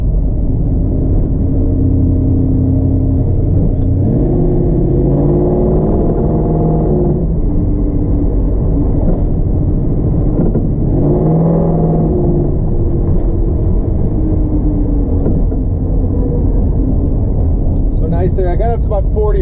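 A 1970 Chevrolet Nova's engine rumbles and climbs in pitch as the car accelerates on the road, a loud, close drone from inside the car rising in a couple of pulls, with a voice talking over it.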